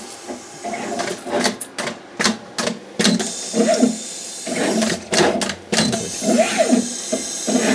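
A PCB pick-and-place machine runs close by, producing quick bursts of whirring and clicking that stop and start in an uneven, busy rhythm.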